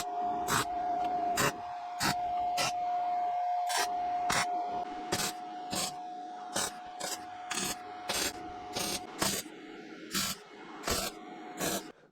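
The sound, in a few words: tack welding thin VW T25 van panel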